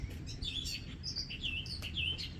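Small birds chirping outdoors, a scatter of bright high tweets and short calls repeating over a soft background hiss, moderately distant and fairly quiet.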